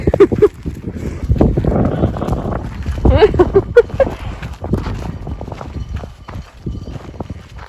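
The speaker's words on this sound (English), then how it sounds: "We just had a little convoy of goats here just passing us." Hooves of a loose herd of twenty to thirty goats trotting past on rocky ground near the monastery at Petra, a close, busy patter of steps under people talking.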